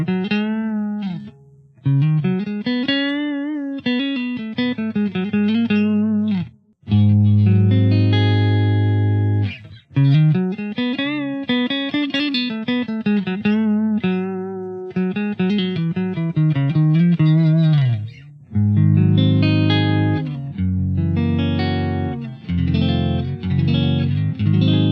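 Clean-channel electric guitar played through a Hall of Fame reverb pedal with the reverb set low, sustained notes and chords ringing with a lush tail, loud and alone with brief pauses between phrases.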